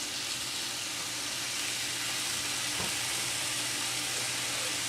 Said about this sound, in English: warm it up a little bit here, brown it up a little bit